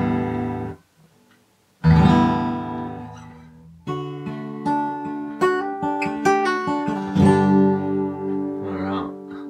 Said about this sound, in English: we'll just check the electric guitar